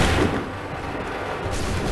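Musket volley gunfire on a battlefield in Assassin's Creed 3, a single heavy crack fading into a long low rumble, moderately loud, followed by a dull background roar.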